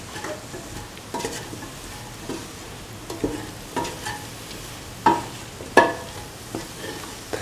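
A spoon scrapes and stirs cauliflower and potato fried rice with garam masala in a hot pan. Rhythmic scraping strokes sit over a soft steady sizzle, with a few louder clanks near the end and no voices.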